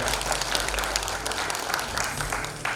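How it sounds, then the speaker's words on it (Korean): A crowd at a Jeongeup cultural center anniversary ceremony gives the mayor warm applause, a steady wash of clapping heard from a moderate distance, fairly soft and continuous. "우리 이학수 시장님께 뜨거운 박수 부탁드리겠습니다"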